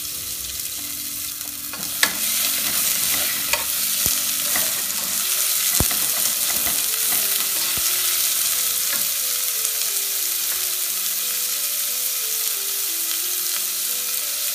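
Chopped onions frying with salt in hot oil, a steady close sizzle with occasional stirring scrapes and clicks of a utensil against the pan, with no voices throughout.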